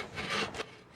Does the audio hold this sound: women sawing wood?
yes